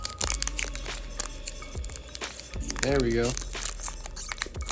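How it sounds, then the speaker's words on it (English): A Japanese One Piece trading card pack being torn open by hand, with crinkling foil and short ripping bursts close to the mic, while someone talks briefly over it. "I'm determined to get this open with my fingers"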